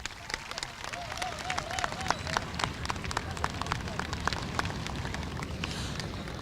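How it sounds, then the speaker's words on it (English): A crowd claps at an outdoor school parade of champions, a steady patter of many hands continuing for several seconds at moderate distance, with scattered voices and a brief whistle-like tone early on. "We clap. Please do."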